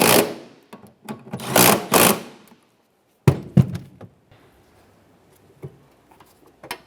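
Bolts on a bracket being tightened on a 2007-2012 Nissan Versa liftgate, with bursts of rapid ratcheting whirr followed by sharp clanks and small knocks, close and fairly loud.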